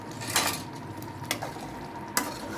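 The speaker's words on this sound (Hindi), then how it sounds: "अब हम इसमें मछली शामिल कर देंगे" Fish pieces drop into spiced masala frying for a fish curry, giving a continuous sizzle with three sharp clatters of utensils against the pot.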